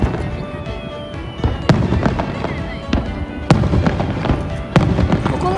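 Fireworks burst over Beppu Bay during a summer festival in Japan. Several sharp booms land at irregular intervals over a continuous crackling wash, with some crowd voices in the background.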